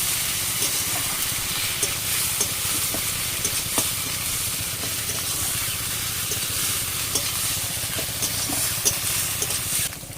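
Continuous loud sizzling and crackling of ginger-garlic paste frying in a pan, with scattered pops and scraping throughout, no voices.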